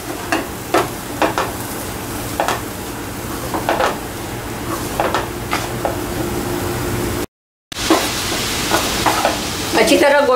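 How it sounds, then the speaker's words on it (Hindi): Chana dal frying in a pan is stirred with repeated scraping strokes over a continuous sizzle, close and fairly loud, broken by a brief silence. "ऐसे हिलाते रहना है।"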